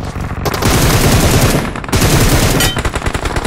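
Rapid automatic gunfire in a mobile shooter game, loud bursts of rattling shots with short pauses between them, close and dominating the mix without talk.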